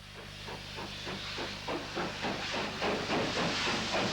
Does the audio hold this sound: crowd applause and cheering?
no